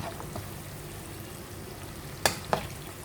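Crispy chicken strips frying in plenty of hot oil give a soft, steady sizzle, broken near the end by two sharp, close crackles.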